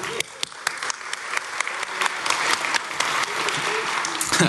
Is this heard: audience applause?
yes